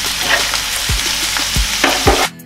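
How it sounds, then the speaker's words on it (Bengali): Onions frying in hot oil in a pan for a fish curry, a steady close sizzle broken by a few soft stirring scrapes before it abruptly cuts off. "পেঁয়াজটা একটু নাড়িয়ে দেবো।"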